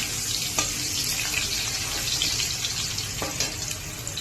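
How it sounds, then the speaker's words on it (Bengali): Potatoes frying in a pan, a soft steady sizzle with a couple of faint utensil taps, fairly quiet and close, no talking. "তো আমি আবার আলুটা আগে ভেজে নেই।"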